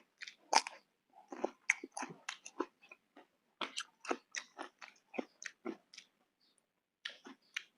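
Close, intimate chewing of raw beef larb with liver, a series of wet bites and crunchy mouth clicks in irregular bursts separated by brief silences, quiet and isolated without talk.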